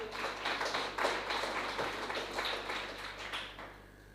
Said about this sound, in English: So I think you should all really give yourselves a big round of applause.